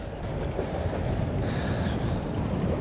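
Strong gusting wind buffets the microphone at Exmouth marina, a loud, constant low roar with broadband rumble throughout, plus a faint high whine briefly rising midway; no talking.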